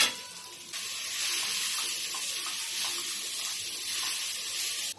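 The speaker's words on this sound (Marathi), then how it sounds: "इथे भोपळा हलवून घ्यायचा एकदा" Pumpkin stirred in a hot pan on a gas stove: a steady, close sizzling hiss with faint scraping, and no voices.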